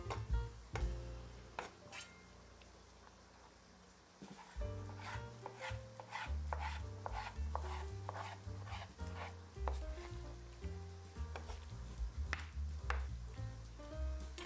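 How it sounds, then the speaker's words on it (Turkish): Repeated knife chops on a cutting board, coarsely cutting red peppers for ajvar, irregular and fairly close, with light rubbing and tapping between strokes. "Bıçağın sırtıyla da tohumlarını temizledikten sonra yine iri iri doğruyorum."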